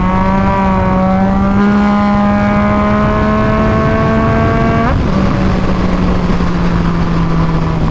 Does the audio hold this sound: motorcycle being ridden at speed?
yes